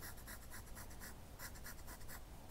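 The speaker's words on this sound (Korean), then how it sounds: "지금 카쿠노 한번 써볼게요 찍어서" A Kakuno fountain pen with an extra-fine nib, dipped in ink, scratches across paper in quick rhythmic strokes, close and continuous with brief pauses between bursts, and no talking.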